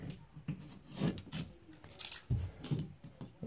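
Utility knife slicing and scraping drywall tape off a seam on a wall, a series of close, rasping cuts and scrapes in uneven bursts with no talking.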